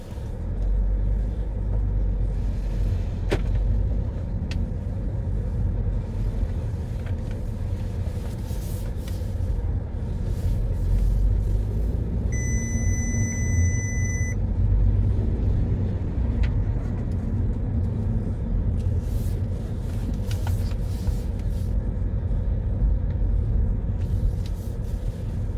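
A 2014 Audi A3 Sportback 1.4 TFSI automatic on a test drive, a steady low engine and road rumble throughout from inside the cabin, with faint higher tones riding above it.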